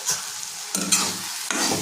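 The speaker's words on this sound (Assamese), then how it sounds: "অকণমান জাষ্ট ভাজি লওঁ আলুখিনি ধুনীয়াকৈ" Potatoes and capsicum frying in a pan while being stirred, a close sizzle broken by scraping stirs, no voices.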